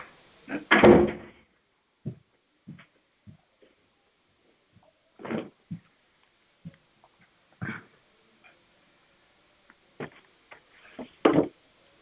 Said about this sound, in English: to please shut the door